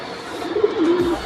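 A racing pigeon at a loft gives a single short, soft coo close by, against light background noise.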